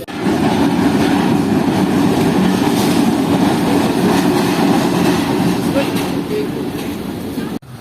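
Jaffer Express train on a single line in Pakistan, with a ZCU 2000 hp locomotive heading from Rawalpindi toward Lahore, gives a steady loud rumble of rolling wheels and carriages that continues without a break and cuts off briefly near the end.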